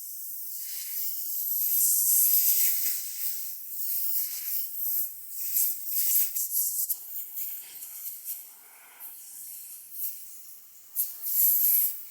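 An airbrush blows air through its barrel with a steady, thin hiss that pulses as the trigger is worked, fairly quiet and continuous with brief surges near the end.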